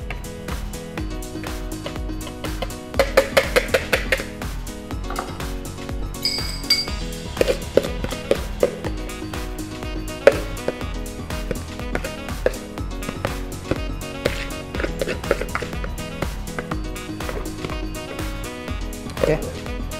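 A whisk beats mayonnaise by hand in a bowl, making fast, steady rhythmic clinks and scrapes against the sides that continue throughout while someone talks over it.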